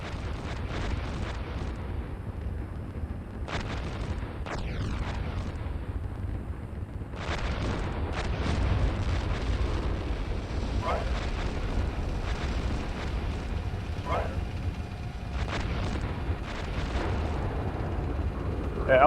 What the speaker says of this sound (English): There's a lot of tanks here and missiles overhead of us